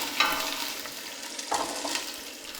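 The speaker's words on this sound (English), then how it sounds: "we got a good sizzle going on in here" Soup ingredients sizzle and crackle steadily in a pot, with a few soft stirring clinks.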